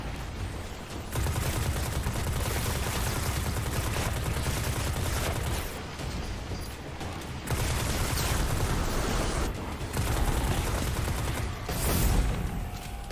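Sustained rapid enemy gunfire from a Destiny 2 firefight, loud dense bursts and fusillades almost continuously for over ten seconds with only brief lulls, no talking.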